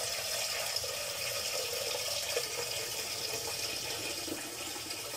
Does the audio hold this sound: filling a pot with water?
yes